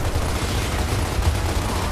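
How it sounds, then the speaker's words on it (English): Steady burst of sniper and rifle gunfire in the game Gears of War: Ultimate Edition, a dense continuous volley of shots with heavy low-end rumble, loud and unbroken throughout. "Ow, I'm getting sniped"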